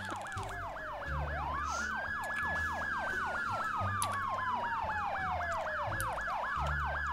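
Emergency vehicle sirens wail on a street in New Haven County, one cycling in a fast yelp while another sweeps slowly up and down, layered over a low vehicle rumble, fairly distant and without talk.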